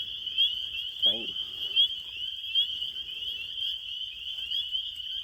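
Frogs heard at night, with a short croak rising out of a constant high-pitched insect or frog trill and low rumbling in the background.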